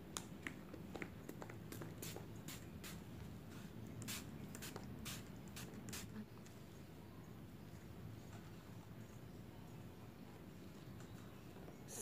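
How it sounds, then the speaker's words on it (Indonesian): Several short hissing bursts of Novrich Beauty Fresh Inaura hair moisturizer being sprayed onto hair before flat-ironing, clustered early and fading into a steady low room hum. "kita semprotkan"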